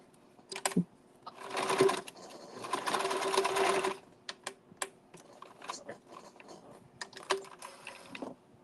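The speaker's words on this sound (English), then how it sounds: "We're just going to keep stitching everywhere." Sewing machine stitching fabric in short runs, a quick mechanical rattle that starts and stops, separated by clicks and small handling taps, fairly close and moderately loud.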